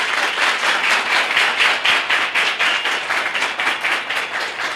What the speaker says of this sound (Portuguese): a doutora Paula, uma salva de palmas para ela